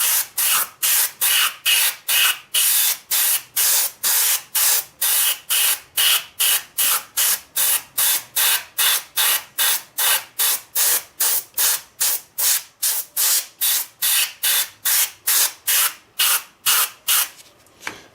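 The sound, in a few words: airbrush spraying a thin coat of paint, compressor-driven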